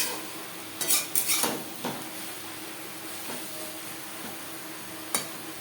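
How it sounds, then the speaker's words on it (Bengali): Eggplant and fish oil are mixed with turmeric and salt in a pan, with a few quiet metallic scrapes and clinks of a spoon against the pan over a soft background hiss. "বেগুনের সাথে বেশ ভালো করে মিক্স করে দেবো।"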